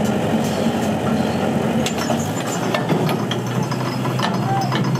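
A Welger AP4 hay baler runs steadily, its plunger driven through the power take-off by a Unimog 411, giving a dense continuous mechanical drone with faint clanks and rattles, loud and unbroken throughout.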